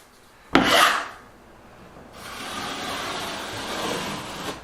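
Metal blade scraping joint compound flat across a bedroom wall, a sharp rasping stroke up close followed by a longer, steady scraping drag.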